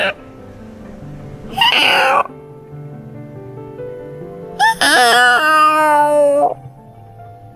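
A cat gives two loud, drawn-out meows, the second long and wavering like a caterwaul, with quieter background noise in between.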